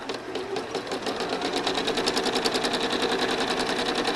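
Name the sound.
home sewing machine quilting loops with rulers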